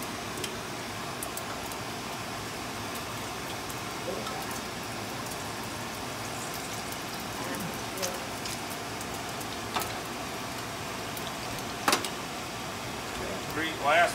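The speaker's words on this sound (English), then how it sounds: "This is the fan on the microwave." A microwave's fan hums steadily throughout at moderate level while bacon cooks, with a few faint clicks and clatters on top.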